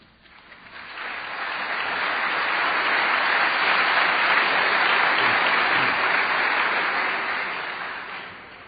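Audience applause for a speaker at a 1999 debate on whether Jesus rose from the dead, a sustained broad wash of clapping from many hands that swells over the first seconds, holds steady and tapers slightly at the end, with no talking.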